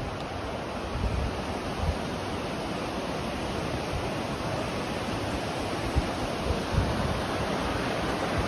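A steady, broad rush of a river flowing nearby in a Japanese park in Gifu, continuous and even throughout with no voices.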